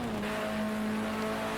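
A Nissan race car in the racing game Project Cars 2 drones with a steady, sustained engine note throughout, loud and continuous with no talk over it.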